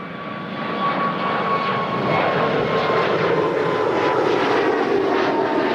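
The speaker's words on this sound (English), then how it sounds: "Here's a departure that I missed. Looks like an A220 of Deltas." A Delta Airbus A220 departs Toronto Pearson, its engines roaring loud and steady with a rising whine, building slightly over several seconds with no talk.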